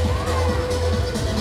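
A crowd packs the stands at a junior basketball game featuring the Fort Knox Junior B team, giving a brief, loud burst of cheering and shouting that fills the space.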